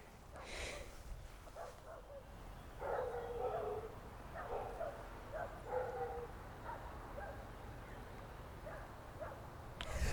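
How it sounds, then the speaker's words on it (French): Dogs bark faintly in the distance, a few scattered yaps over a soft, steady outdoor hum. "Autant je n'aime pas les chiens qui aboient"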